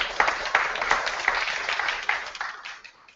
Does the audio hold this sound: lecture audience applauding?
yes